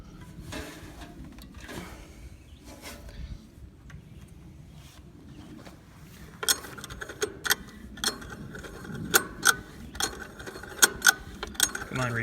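A recoil starter is yanked repeatedly on a diesel engine swapped into a Sears 8XL, giving sharp ratcheting pulls with a mechanical whir in quick succession, after a quieter stretch of handling noise.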